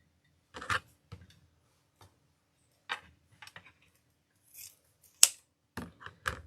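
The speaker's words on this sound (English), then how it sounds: "scissors" Sharp scissors snip through fabric rag strips for a braided rag wreath, giving about eight to ten separate crisp cuts at an uneven pace, close and alone in a quiet room.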